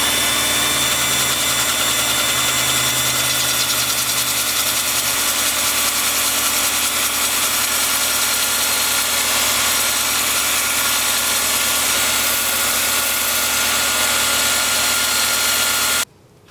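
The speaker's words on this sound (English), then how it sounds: "get my 2-inch sanding disc out and get to work on the inside" A 2-inch sanding disc spins at 300 RPM on a lathe, working 80-grit paper across the inside of a 7-inch alder live-edge bowl. The motor hums steadily alongside a continuous close abrasive hiss that holds for about sixteen seconds, then cuts off.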